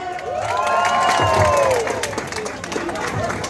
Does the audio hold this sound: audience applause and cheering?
yes